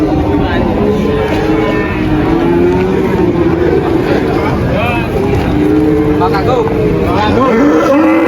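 Cattle at the Muntilan livestock market on a busy morning, with a steady din of crowd noise and engine rumble throughout and occasional animal calls rising through the chatter, while people talk nearby.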